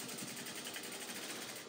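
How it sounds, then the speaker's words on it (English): Sewing machine running steadily while stitching the back seam of a shift dress, a fast, even whir that keeps up the whole time with no voices. "So as I'm sewing the back piece"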